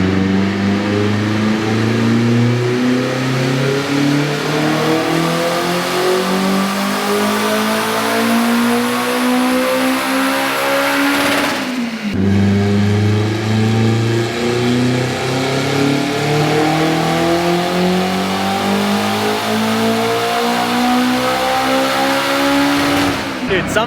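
A Honda Civic with a K20 engine revs hard toward redline in two long pulls, pitch climbing steadily, dropping briefly at a shift, then climbing again, loud and close, with a voice talking underneath.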